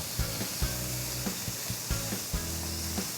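Steaks sizzle steadily in a hot pan with butter, a constant hiss broken by a few sharp pops and clanks of utensils against the pan, fairly quiet and close.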